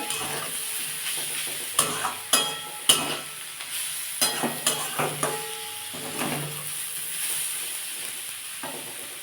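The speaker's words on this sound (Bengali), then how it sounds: "এর মধ্যে আদা রসুনের পেস্টটা দিয়ে দেবো এটা দিয়ে একটু কষবো" Ginger-garlic paste is stirred and fried in a pan for a cauliflower and egg dish, giving a steady sizzle broken by several sharp scrapes and clatters of a spoon against the pan, with no talking.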